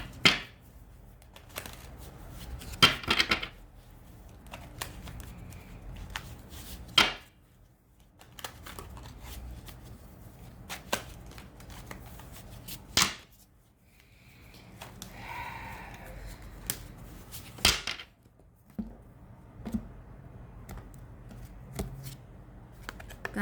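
Tarot cards are shuffled and handled in bursts of soft riffling and flicking, quiet and close, with pauses and light rustles between, no talking.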